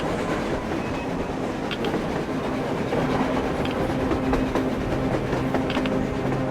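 Train rolling across the surface in Metro Exodus, a steady, loud rumble with faint rhythmic clacking and occasional metallic squeals, sustained and continuous throughout with no voices.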